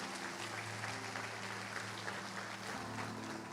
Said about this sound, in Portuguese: Dá mais uma salva de palmas a Jesus.